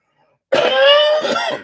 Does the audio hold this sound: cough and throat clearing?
yes